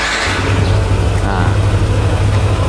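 A Yamaha Nmax scooter cranks on its electric starter and the engine catches, settling into a steady close-up idle hum.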